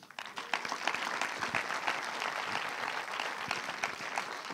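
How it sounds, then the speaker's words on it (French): Audience applause for two DJs at a film festival closing ceremony, a crisp, steady clatter of many hands clapping throughout, fairly close and even in level. "on peut les applaudir très très fort"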